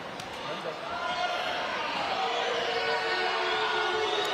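Live crowd at a professional boxing match, a steady broad murmur of many voices filling the arena, restless rather than cheering, with talk over it.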